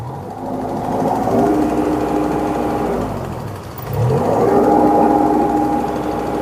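A used mini excavator meant for farm work revs from idle, its engine climbing to a steady higher whine, briefly dipping, then revving again and holding, loud and close with no voices over it.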